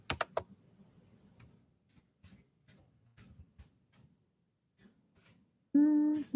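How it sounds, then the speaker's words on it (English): Someone types on a computer keyboard indoors, giving a sparse scatter of quiet, irregular key clicks, with a louder clatter at the start and a brief tonal sound at the end. "me try to type something here."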